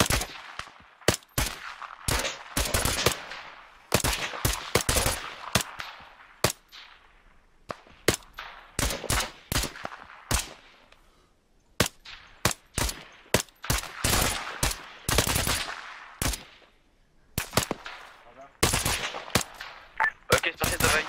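Gunfire in the video game Arma 3 during a multiplayer operation: dense bursts of rifle and machine-gun shots crack in rapid clusters with short pauses, loud and close, and voices talk between volleys.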